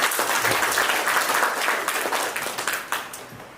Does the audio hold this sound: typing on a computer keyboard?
no